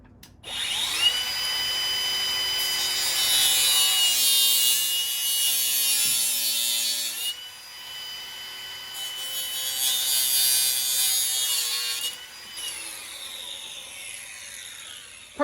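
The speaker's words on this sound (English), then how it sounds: "I think the best option is just to use a cutoff wheel" A cutoff wheel grinds through a PCV valve hose on a crankcase vent kit install in loud, sustained bursts, with a shrill whine that pauses briefly and then resumes for a second long cut.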